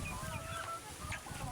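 Native chickens clucking and calling close by while being fed, a busy overlapping flock with faint chatter in the background.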